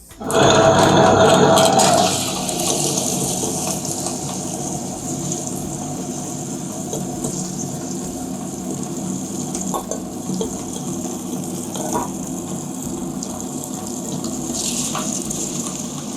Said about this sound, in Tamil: இப்போ அரைக்க ஆரம்பிக்கலாம்.